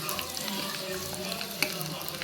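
Mustard seeds and urad dal sizzle and crackle in hot coconut oil during a tempering, a steady busy frying hiss with light popping and occasional utensil clinks, close and continuous.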